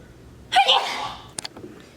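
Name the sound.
sneeze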